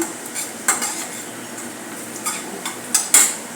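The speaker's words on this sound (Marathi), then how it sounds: "हिंगही परतून घेऊया" Asafoetida sautéing with pink-browned onions in a pan, a soft continuous sizzle broken by several sharp metallic clinks and scrapes of a spoon against the pan, the loudest coming in a quick pair near the end.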